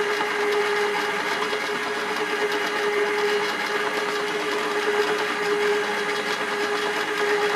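A pasta machine working water-based pasta dough gives a steady, continuous motorized whir with a constant tonal hum, moderately loud and unbroken throughout, with no talking.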